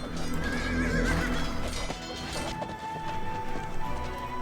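Horse neighing and galloping hooves in a Chronicles of Achaemenids video game, a loud whinny followed by clattering hoofbeats and impacts, dense and close over a game soundscape.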